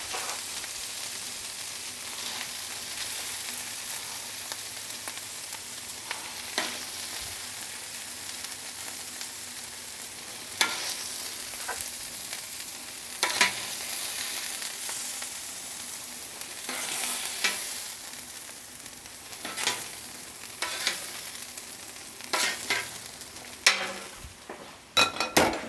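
Beef frying in a pan for birria tacos, a steady broad sizzle running throughout with intermittent stirring scrapes and light utensil clinks against the pan, close and moderately loud, no voices.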